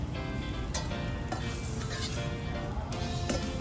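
Fish sizzles in a frying pan with a dense, steady crackle of hot oil that fills the whole stretch. Light scrapes and clinks of a utensil against the pan come and go, and nobody speaks.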